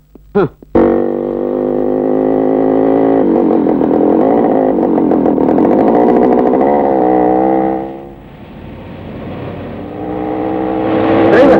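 A motor vehicle in a Tamil comedy film scene drives with a loud, steady engine drone after a few sharp knocks at the start. It winds down and stops, then the engine swells again.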